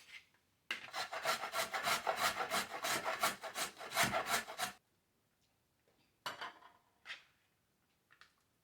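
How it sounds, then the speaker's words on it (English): Carrot rubbed on a grater in rapid, rhythmic rasping strokes for about four seconds, close and fairly loud, followed by a few faint scrapes and light kitchen clatter. "The first thing that we are going to do is grate some carrot"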